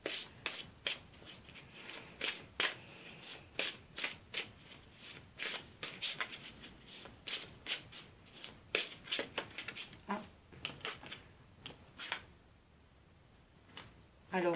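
Oversized tarot cards are shuffled by hand, making soft, close riffling slaps and papery rubs in quick irregular bursts, fairly quiet, pausing briefly near the end before another shuffle.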